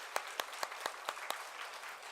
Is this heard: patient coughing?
no